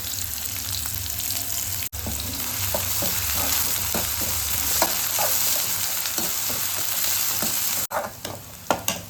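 Curry leaves and onion frying in hot oil in a pan, a steady dense sizzle that runs almost the whole time with scattered crackles and pops and two brief dropouts, no talking.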